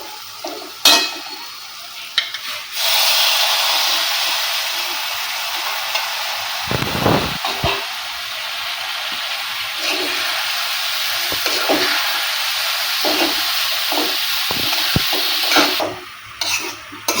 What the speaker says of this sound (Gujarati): બધી જ વસ્તુને સરસ રીતે મિક્સ કરી લઈશું।